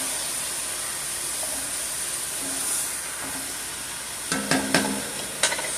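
Ground beef and sage sausage frying in a pan, a steady close sizzle and hiss throughout, with a few sharp utensil scrapes and clinks near the end.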